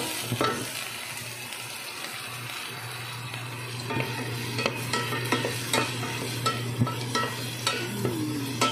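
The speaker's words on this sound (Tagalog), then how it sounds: "Yung una pong ginigisa ay yung sibuyas." Onions sautéing in a pan as the first step of a pork dish, a low steady sizzle with repeated close scrapes and taps of a spoon stirring throughout, no voices.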